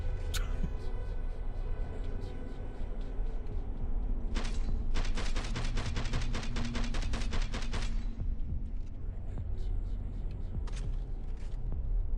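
Video game gunfire in a first-person shooter, with a single sharp shot followed by a sustained rapid automatic burst lasting several seconds, all set over a dense, steady game soundtrack and ambience.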